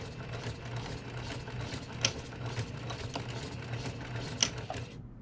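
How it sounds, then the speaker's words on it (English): A domestic sewing machine back stitching at the start of a tote bag strap seam, its needle running in a steady, continuous motor whir with a couple of sharper clicks as the stitch direction reverses, close and alone. "we're going to back stitch a couple of times"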